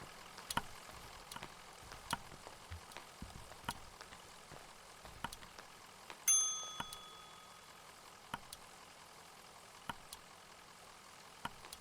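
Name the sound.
bell ringing in the video game Kentucky Route Zero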